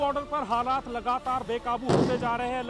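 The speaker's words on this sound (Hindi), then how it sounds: "लगातार धमाकों की आवाज आप सुन सकते हैं।" A single heavy blast thumps out near the border where farmers are protesting against police. It is brief and sits under a male news reporter's continuous talking.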